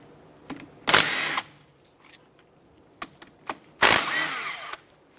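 Power tool bursts loosen the 13mm brake caliper bolts on a 2006-2013 Chevrolet Impala: two loud, close whirring rattles of about half a second each, separated by quiet moments with small metallic clicks.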